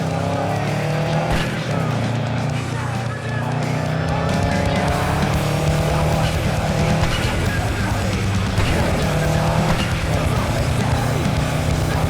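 Car engine in the Cyberpunk 2077 video game drones steadily while driving, revving and shifting pitch with tire noise, under overlapping character talk.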